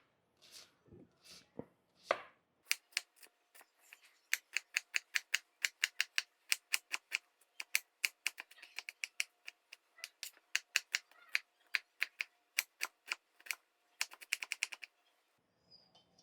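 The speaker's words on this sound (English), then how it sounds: "we'll give this a little chop" A kitchen knife chops food on a cutting board while preparing spicy crawfish enchiladas, with quiet, rapid, sharp taps in quick runs and short pauses, after a few scattered handling knocks.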